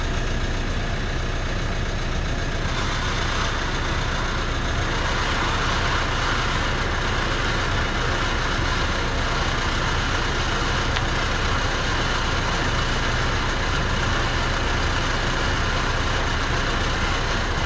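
A 4WD truck engine idles steadily with a loud, constant low rumble and hiss that never lets up.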